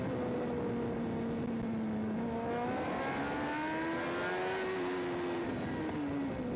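A racing motorcycle engine at the Macau Grand Prix drones steadily, its pitch dipping and easing as revs are cut back for bends, then climbing again, loud and continuous with a faint whine above.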